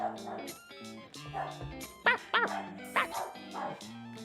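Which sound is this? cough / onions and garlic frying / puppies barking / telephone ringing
puppies barking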